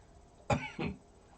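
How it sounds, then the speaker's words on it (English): Two quick, close coughs in succession, the first slightly sharper, in an otherwise quiet room. "I still have a cough from the virus"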